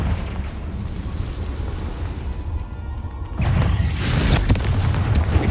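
Confringo blasting spell from Hogwarts Legacy, a booming burst that jumps in loudness partway through, then keeps rumbling over a bright crackling wash, loud and close amid ongoing game noise.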